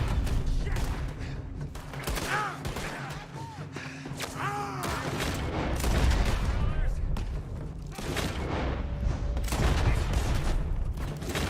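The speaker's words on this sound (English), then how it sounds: "Oh, that's the guy who's shooting at me." Scattered gunshots and thuds from enemies firing in Red Dead Redemption 2, mixed with game effects and a steady backdrop, while a player talks over the action.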